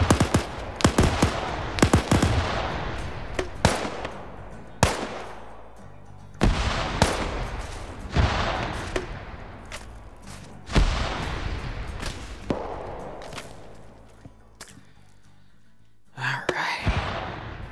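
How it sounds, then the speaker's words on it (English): Bursts of machine gun and rifle fire from a competitive team shooter match, loud and close, with repeated sharp volleys and rattling strings of shots over a busy background of game effects. "one of the Blue 4 guys is just picked off by a machine gun"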